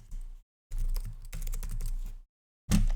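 Keys clack on a computer keyboard as a name is typed for a new service key, in bursts of close, crisp taps separated by short pauses.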